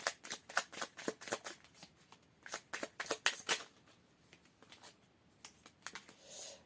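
Tarot cards are shuffled by hand in a rapid run of crisp riffling flicks, fast for about three seconds, then slowing into a few looser slaps and a soft final rustle.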